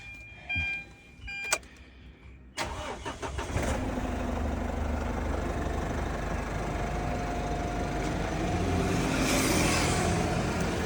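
A 2017 All-New 1.9 pickup truck with a modified exhaust cranks over with a few short starter bursts, catches, then settles into a steady, throaty idle that carries on to the end with no talking.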